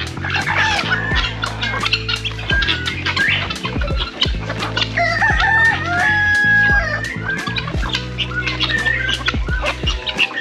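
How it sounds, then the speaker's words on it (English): Many chickens cluck busily and close by at feeding time on a Jamaican animal farm, with a rooster crowing through the middle, a dense continuous flock noise with no talking. "so chickens are coming from all over to feed."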